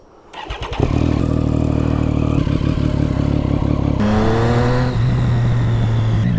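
A motorcycle engine starts and settles into a loud, close running drone, then climbs into a rising whine as the bike pulls away on a warm day on the road.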